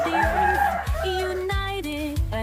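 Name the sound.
egg-laying chickens at a farm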